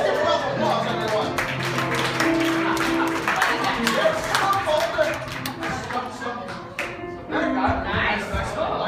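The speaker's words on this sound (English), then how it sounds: "Let's give a round of applause" Audience applause for a volunteer picked to play a miner at a Denali cabin night show, a dense mix of clapping and crowd noise running steadily throughout alongside voices and music.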